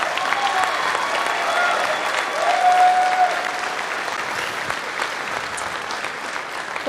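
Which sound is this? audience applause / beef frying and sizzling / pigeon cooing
audience applause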